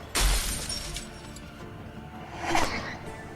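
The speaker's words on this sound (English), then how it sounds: "It's cool that they shatter too." Objects shatter during gameplay of The Wolf Among Us video game, with two separate breaking bursts, one near the start and a second a couple of seconds later, each fading out quickly.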